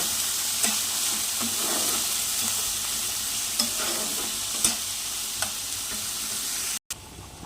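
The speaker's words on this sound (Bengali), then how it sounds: "ভালো করে নেড়ে চেড়ে গ্যাসের আঁচটা কমিয়ে ভালো করে ভেজে নেব" Cheese pasta seasoned with salt and black pepper is stirred and fried over a lowered gas flame: a close, continuous sizzle with repeated scraping and clacking spoon strokes, briefly cutting out near the end.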